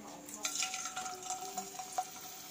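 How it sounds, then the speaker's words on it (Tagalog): Hot cooking oil being tested before frying potato chips gives a faint, steady sizzle with light stirring and utensil scrapes, a few brief sharper crackles standing out, and no talking. "i try na po namin kung mainit na po yung mantika"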